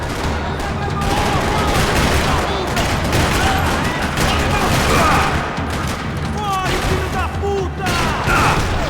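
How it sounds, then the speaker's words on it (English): Dense gunfire rattles across a parking lot in the video game Max Payne 3, with overlapping rapid bursts and booms sustained and loud, and voices breaking through the shooting. "Another parking lot rattling with gunfire."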